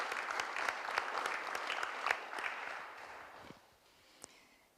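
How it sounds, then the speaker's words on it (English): An audience applauds at the opening of a conference on violence against women. The clapping is moderate and dense at first, then thins and fades out over a few seconds. "I would ask for another round of applause for Ana Sofia Fernandes, Ana Catarina Mendes"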